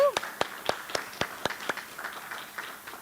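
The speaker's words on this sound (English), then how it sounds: "Big round of applause for you." Applause from an audience welcoming the 2022 President's Leadership Academy class at an induction ceremony, with a few sharp claps at first that thin into scattered, softer clapping mixed with a murmur of voices.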